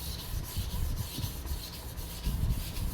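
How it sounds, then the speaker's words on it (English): A knife blade with minor chips rasps against a sharpening stone in steady back-and-forth strokes, a close, continuous gritty scraping with a brief pause. "So I just keep sharpening."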